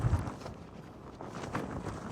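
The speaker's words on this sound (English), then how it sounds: "It's a bit windy up here today" Wind gusts buffet the microphone on a hilltop in New Mexico, a rough, fluctuating low rumble with hiss, fairly loud and uneven, with no voices.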